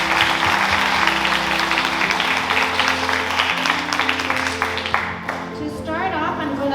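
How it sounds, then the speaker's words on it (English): Steady crowd applause fills the hall at a high school senior scholarship awards ceremony, loud and continuous, with a few voices underneath before it thins out toward the end. "let's give you all a big round of applause"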